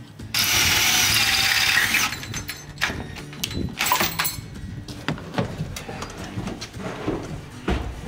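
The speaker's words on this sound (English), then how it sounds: "we're gonna go ahead and drill it out now" A power drill whirs steadily for a couple of seconds, then grinds and ratchets in short irregular bursts as it bites into metal, drilling out a stripped screw, close by.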